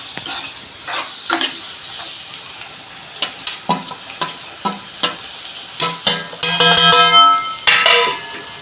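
Squid roast with chilli, coriander, pepper, turmeric and curry masala being stirred in a pan: repeated scraping strokes of a spoon with sizzling, growing busier and louder toward the end, no talk.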